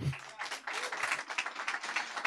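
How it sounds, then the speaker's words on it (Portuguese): An audience at a political marketing course claps for an arriving speaker, a dense, steady wash of applause filling the room after a brief low thump at the start. "Então eu quero que vocês recebam assim um aplauso muito carinhoso, Lucas Pimenta."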